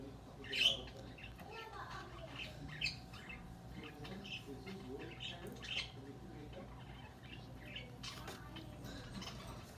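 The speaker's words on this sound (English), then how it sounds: "that's the parrot" A baby parrot gives a few sharp squawks and short chirps at irregular moments, fairly near, over a low background hum.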